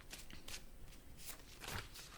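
Tarot cards are shuffled and gathered back into the deck, making quick, soft riffling bursts close up and faint, repeated several times in short rhythmic flicks.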